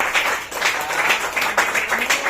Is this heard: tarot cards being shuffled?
no